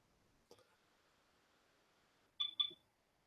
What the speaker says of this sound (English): And I hear beeping.